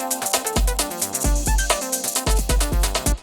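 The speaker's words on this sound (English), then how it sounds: "So I've got a 303 which I'm liking the sound of." A squelchy 303-style synth line plays a randomized, bouncy melody in a breakbeat/techno track, its notes stepping over punchy kick drums in a tight, loud, repeating groove.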